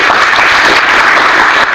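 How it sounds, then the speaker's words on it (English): Dense applause from students in a teacher-training classroom in Mysore, a brief loud burst of many hands clapping together, steady throughout with no talk. "Give him a good clap for giving an answer"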